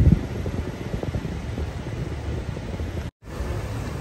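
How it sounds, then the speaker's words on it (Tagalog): Rear air conditioner of a Toyota Hi-Ace Commuter De Luxe van blowing steadily, a continuous near fan and airflow hiss with low engine rumble, broken by a brief dropout. "Rear aircon."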